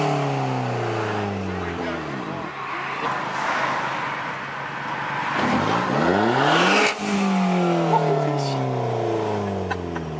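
A loud, raspy straight-piped car exhaust with the muffler deleted revs repeatedly nearby, the engine pitch sweeping up and down in bursts, with people talking and shouting over it.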